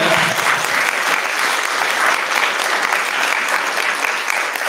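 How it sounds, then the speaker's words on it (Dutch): Dense, sustained clapping from an audience at a queer literature zine presentation fills the whole stretch, a close, steady roar of many hands for one of the contributors. "Mag ik een heel groot applaus voor Kevin?"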